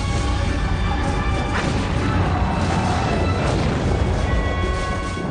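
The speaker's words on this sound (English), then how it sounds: "Cannon fire from the 3 American Navy ships overpowered the Arab guns firing from the water battery" Heavy, continuous booming of naval cannon fire from three American Navy ships bombarding an Arab water battery, a loud, dense rumble with overlapping blasts and no clear gaps.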